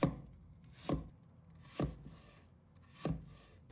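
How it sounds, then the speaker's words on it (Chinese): A kitchen knife slices a piece of fresh ginger into thin slices on a cutting board, with four crisp, evenly spaced chops about a second apart, close and clear. "接着一块生姜切成薄片"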